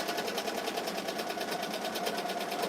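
A Ricoma EM-1010 embroidery machine stitching in cream thread runs steadily and close, a fast even rattling pulse of needle strokes over a constant mechanical whir, with no voices.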